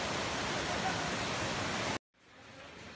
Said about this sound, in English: This is part of the third waterfall.